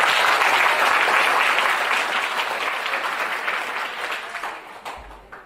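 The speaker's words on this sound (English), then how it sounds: "Ladies and gentlemen, please give your big applause to the Premier of Western Australia." An audience at a Vietnamese cultural centre in Western Australia gives the state Premier a loud, sustained round of applause that slowly fades toward the end, many hands clapping together with no voices over it.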